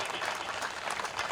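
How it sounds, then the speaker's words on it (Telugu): A crowd at a community caste-unity meeting claps in applause, a dense and even burst of many hands that holds steady throughout, fairly loud and close. "ఒకసారి గట్టిగా చప్పట్లు కొట్టాలండి అన్నకి."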